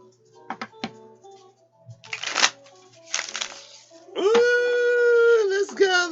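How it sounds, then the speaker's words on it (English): Two short, rustling bursts of playing cards being shuffled by hand sound close and clear after a few light taps. A sustained, wavering vocal tone follows them. "So I'm going to give this a few shuffles"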